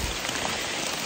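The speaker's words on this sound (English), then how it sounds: "in the rain." Steady rain falls on a mountain trail along the Appalachian Trail, a dense, even hiss of drops close by with no pauses.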